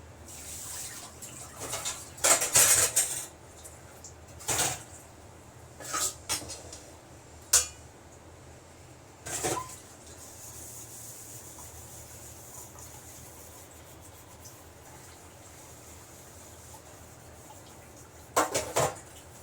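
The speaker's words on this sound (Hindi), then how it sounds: "ये हो रहे हैं बर्तन साफ़।" Dishes and utensils are washed in a home kitchen sink: short bursts of clinking, rubbing and splashing water come in irregular clusters, then a quieter stretch and one more burst near the end.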